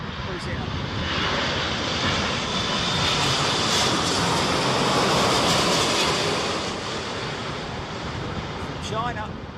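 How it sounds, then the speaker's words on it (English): Boeing jet airliner landing at Heathrow during Storm Henk, a loud continuous roar of engines and gusting wind throughout. "So this is a Boeing jet. I don't know if it's a Dreamliner or if it's a 777."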